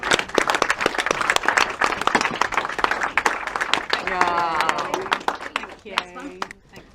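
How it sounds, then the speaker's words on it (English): Wedding guests applaud in a dense burst of clapping that fills the room, with a few whoops and cheers rising near the end as the ovation fades. "Everyone give Dee a round of applause."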